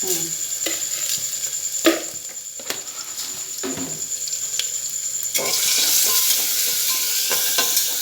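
Garlic fries in hot oil with a steady crackling sizzle, broken by repeated spatula clacks against the pan; the hiss grows louder and denser toward the end.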